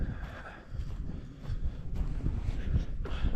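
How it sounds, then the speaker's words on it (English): Wind blows steadily outdoors on a chilly day, a low rumbling buffet against the microphone with gusts swelling toward the end, near and fairly loud with no voices. "It's chilly out here today and the wind's blowing."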